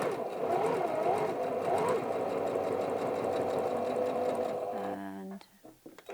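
A sewing machine runs steadily, stitching through fabric for a wallet, its rapid mechanical whir continuous for about five seconds before slowing to a few separate needle strokes at the end.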